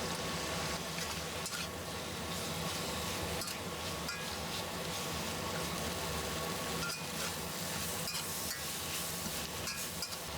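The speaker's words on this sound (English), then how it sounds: "Stir fry for a couple minutes." Shishito peppers and cut shiitake mushrooms stir-fried over medium heat in a wok, giving a steady close sizzle broken by scraping and tossing strokes that run on without a pause.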